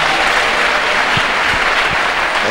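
A church congregation applauding to acclaim the Lord, sustained dense clapping from a crowd filling the room evenly, loud and continuous with no talk over it.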